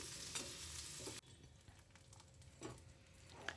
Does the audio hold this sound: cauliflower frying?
yes